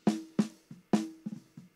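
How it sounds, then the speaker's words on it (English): Two original snare drum tracks from a shoegaze mix, played alone: sharp, bright snare hits in a loose rhythm, with quieter ghost strokes between the louder backbeats. "the two snares I was given sound like this."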